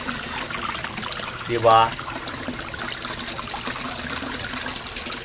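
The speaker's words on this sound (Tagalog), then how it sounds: "Yan ang waterfalls ko guys." A garden koi fish pond waterfall splashes steadily, loud and close, a constant rushing wash with a voice briefly speaking over it.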